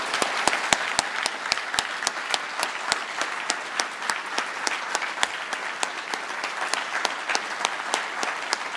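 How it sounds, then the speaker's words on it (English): An audience at the EGX 2013 gaming expo claps steadily throughout, a dense patter of many hands with sharp individual claps standing out near the front. "a big round of applause for Techland"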